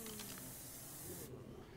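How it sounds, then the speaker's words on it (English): Bug spray hissing in the survival game Ark: Survival Evolved, a steady broadband spray lasting about a second and a quarter before cutting off abruptly, with faint game sounds underneath. "You gonna bug spray me?"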